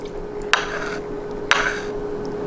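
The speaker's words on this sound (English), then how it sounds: "I take my spoon, get a little bit of yolk" A spoon clinks twice against a bowl while scooping egg yolk for egg rolls, two sharp close taps about a second apart, each followed by a soft wet scrape, in a quiet kitchen.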